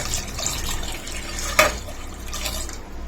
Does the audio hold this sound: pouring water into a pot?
yes